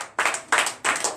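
Church congregation clapping in rhythm during a Sunday worship service in Benin, three loud bursts of dense handclaps with short gaps between them, no talk.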